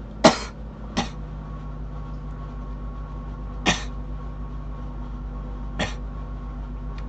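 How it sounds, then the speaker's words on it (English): A person coughs in short, sharp bursts, four separate coughs spread out over a few seconds, fairly close and alone against a quiet background hum. "my coughing's worse than the freaking sound that was making"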